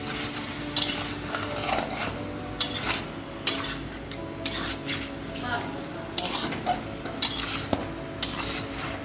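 A utensil scrapes and clatters against a pan while a boal fish roe mixture is stirred and lightly fried, producing irregular sharp metallic knocks over a low background sizzle, close and fairly loud.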